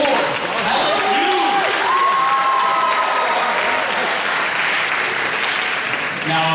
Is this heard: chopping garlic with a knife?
no